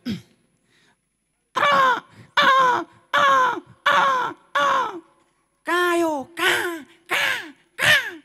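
At a festival performance, a man vocally imitates a crow with a brief throat sound and then nine loud, harsh caws in two quick runs, close and clear with silence between the runs.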